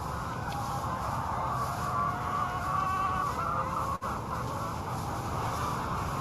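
Chickens clucking faintly in a chicken tractor, under a steady broadband hiss with a brief dropout partway through.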